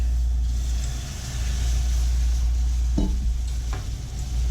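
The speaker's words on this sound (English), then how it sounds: "Now what we want to do is whisk in the milk." A whisk stirs milk into a cooked roux for a Mornay sauce in a pan, giving a steady scraping, bubbling sizzle with a low rumble beneath and a couple of brief clinks near the end.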